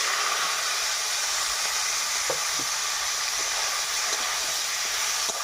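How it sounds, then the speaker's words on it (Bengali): Katla fish heads fry in hot oil in a kadai with a steady, close sizzle that holds throughout, broken by a few faint stirring clicks. "তো মাছের মাথাগুলো আমি ভেজে নেব।"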